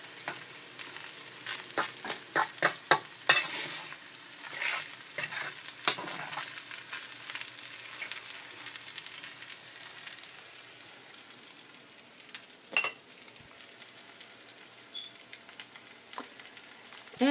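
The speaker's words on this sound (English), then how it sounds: "You just let it sizzle, cook, and just add the flavor together and you mix it together." Chinese-style rice sizzles in a pan while a utensil stirs and scrapes it, giving sharp clustered clatters early on and a soft, steady frying hiss underneath, close and without talk.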